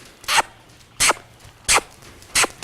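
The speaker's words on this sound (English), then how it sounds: "I'm going to smooch or make a kissing sound for my transition there" Four short, evenly spaced smooching kiss sounds, made by a handler on the ground to cue a horse on the lunge line into canter, sit close and clear over a quiet background.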